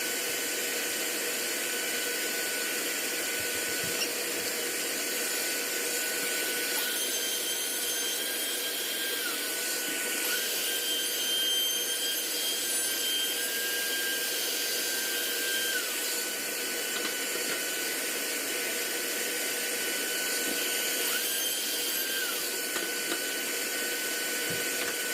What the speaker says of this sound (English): I've got dust collection going above me. But no matter how good you take care, when you're routing from the top like this, it just throws wood chips and dust everywhere